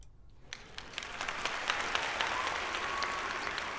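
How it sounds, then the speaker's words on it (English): Applause that starts with a few scattered claps and quickly swells into a steady, fairly soft round, continuing evenly to the end. "Give him a round of applause."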